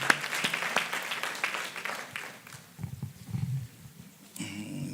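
Congregation applause at a church service with a bishop, a burst of clapping that thins out after a couple of seconds, followed by low murmuring and rumbling room noise.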